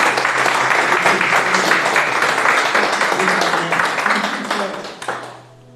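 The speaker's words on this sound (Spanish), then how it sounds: "Un fuerte aplauso a Dios." A congregation applauds during a church sermon, loud sustained clapping that fades out at the end, leaving a low hum.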